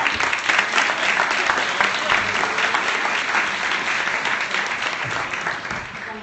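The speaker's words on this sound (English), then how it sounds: "Yeah, you can applaud for that." Studio audience applauding on a morning television show set, a dense, steady wash of clapping that holds loud and even throughout with no talk over it.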